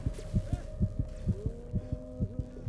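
Heartbeat in Call of Cthulhu, a steady run of soft paired thumps repeating about every half second over a low droning hum, with no talk.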